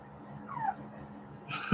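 A single thin, high whimper from a puppy, soft and brief, followed by a short yelp-like noise at the very end.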